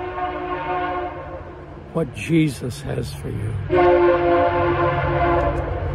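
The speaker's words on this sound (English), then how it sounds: "There's the train going by." A passing train sounds its horn in a few loud, sustained blasts while someone speaks over it, with the rumble of the rail cars continuing underneath.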